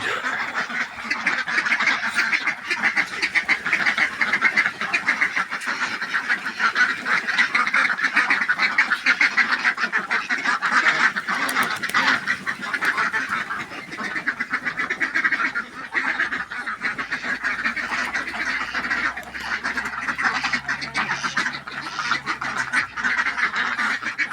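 A flock of ducks quacks loudly and almost nonstop nearby, overlapping calls forming a continuous chorus as two new ducks are let in among them.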